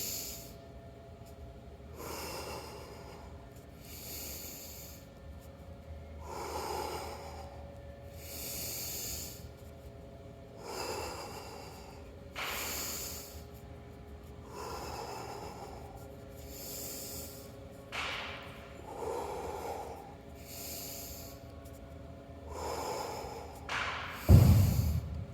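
Slow, deep breaths during a rib release exercise, each inhale and exhale drawn out into soft airy hiss in a steady rhythm, close and quiet, with a brief louder rustle of contact near the end.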